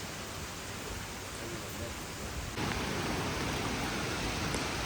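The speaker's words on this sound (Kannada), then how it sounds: "ಫುಲ್ಲು ಮಳೆ ಗಾಯ್ಸ್" Heavy downpour falling near a bridge on the route to Kottiyoor Temple, a dense steady hiss of rain that gets noticeably louder and heavier partway through, with no voices.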